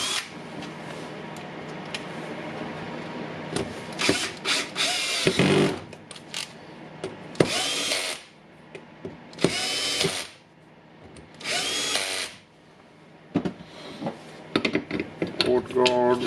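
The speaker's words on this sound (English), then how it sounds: "Getting all the screws a little bit in." Screws are driven into a Makita 9558HNR 840W 125 mm angle grinder during a repair, with a power screwdriver whirring in several short, loud bursts separated by quieter gaps filled with faint handling clatter.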